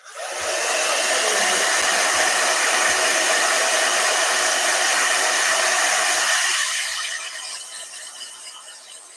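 A blow dryer runs loud and steady for about seven seconds with a hissing, whirring airflow, then winds down and fades out near the end.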